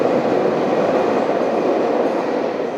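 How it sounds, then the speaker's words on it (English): A London Underground train roars past close by at Pimlico station, a loud, continuous rumbling rush of wheels and carriages with no talking. "That train is very loud."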